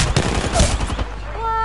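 Rapid automatic gunfire rattles in quick bursts during an Apex Legends match, loud and close, then cuts off into a short lingering game tone.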